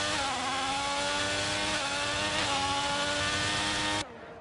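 A loud, high-pitched Formula One engine screams steadily onboard at Miami, with small shifts in pitch through gear changes, then cuts off abruptly near the end.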